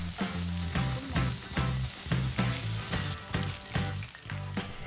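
Chestnut pancake batter sizzles loudly in hot oil in a pan, with a steady frying crackle and a rhythmic pattern of soft taps and scrapes throughout.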